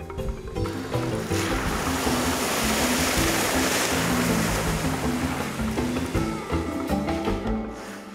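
A boat's engine hums steadily on a river under sloshing water and wind, a continuous loud wash with no voices.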